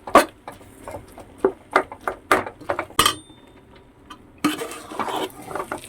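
Spiced tapioca and fish curry stirred in a pot, a spoon knocking and scraping against the vessel in irregular taps, with a denser rattling stretch near the end and no voices.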